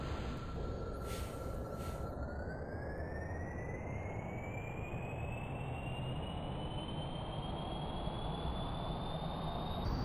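Steady roaring rocket engine launch in Kerbal Space Program, a continuous broadband rumble at constant loudness with a rising whine as the craft climbs, and almost no talk.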